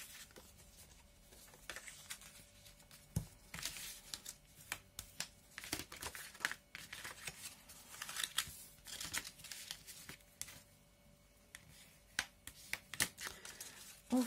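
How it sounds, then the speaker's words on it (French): Card stock creased and folded by hand while making Stampin' Up! pillow boxes: dry crinkling and scraping touches, close and fairly quiet, repeating in irregular bursts throughout with no talk. "Je vais faire les plis donc pour chaque modèle."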